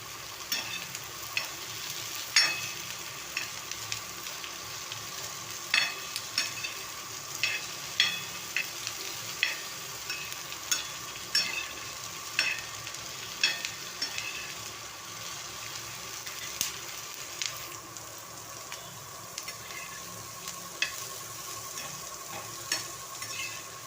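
Spice masala with black sesame seeds being dry-roasted and stirred in a pan: soft sizzling crackle with repeated scraping strokes of a spoon, steady and fairly quiet throughout.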